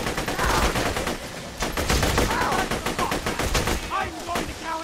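Rapid bursts of automatic gunfire fill a Borderlands 2 firefight, dense and loud, with a voice speaking briefly over the shooting.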